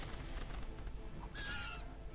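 A crow unit attacking in the Age of Wonders 3 strategy game gives a short, harsh caw that cuts above steady low background game ambience, heard alone without talk.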